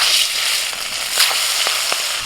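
Hilsa fish frying in hot oil, a loud continuous sizzle with scattered crackles and pops, close up, with no talking.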